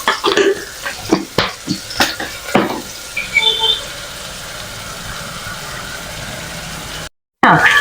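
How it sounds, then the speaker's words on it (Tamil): Sliced onion frying in oil in a pan for a paneer and bitter gourd biryani, heard as a steady sizzle under a run of sharp stirring clatters at the start. The sound then settles into a softer, continuous hiss. "ஒரே ஒரு ஆனியனை கட் பண்ணியிருக்கேன், அந்த ஒரு ஆனியனை இதில் போட்டுக்கிறேன்"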